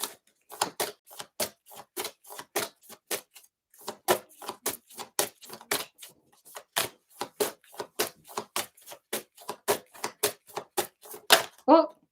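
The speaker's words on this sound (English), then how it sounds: "Takes a few moments extra when we don't have as many cards to shuffle" Oracle cards are shuffled by hand in steady, rapid bursts of crisp flicks and slaps, repeating closely for several seconds with short pauses between runs.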